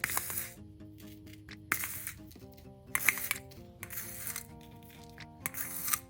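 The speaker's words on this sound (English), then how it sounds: "Time to add the sequins. I'm just going to add a whole bunch all over the nano tape." Loose sequins are scattered over sticky nano tape, making bright clinking, rattling bursts that pour down in several close clusters with short pauses between them.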